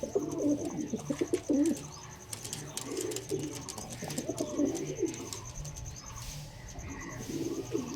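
Pigeons kept at a home loft cooing, repeated soft throaty coos in uneven bursts close by, with faint chirps in the background.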